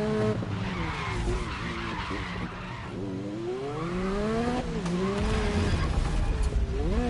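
Race car in a PS5 racing video game, tyres skidding and squealing over a revving engine whose pitch rises and falls through the corners, loud and continuous.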